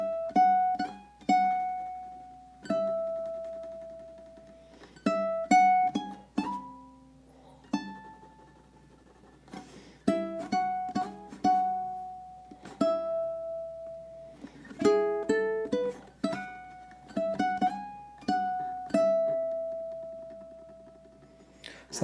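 Ukulele picks out the chorus melody of a love song, single plucked notes and small strums at a gentle unhurried pace, close and clear with notes ringing between phrases and no voices.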